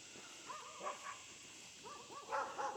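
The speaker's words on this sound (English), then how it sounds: "Some old dogs over here barking." Dogs barking in the distance near a cemetery, a series of faint, rough barks and howl-like yelps in loose bursts, growing slightly louder toward the end against quiet outdoor air.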